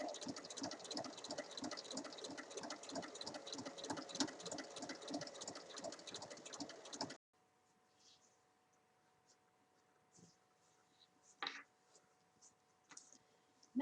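A sewing machine stitches the lining, zipper and outer fabric of a tote bag together, a fast, steady mechanical chatter for about seven seconds. It then stops, leaving quiet handling and a few faint clicks.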